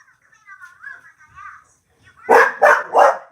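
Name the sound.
dog barking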